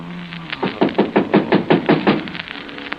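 Knocking on a door as a radio drama sound effect, about nine loud, close, evenly spaced knocks in a quick steady run, then a few fainter taps.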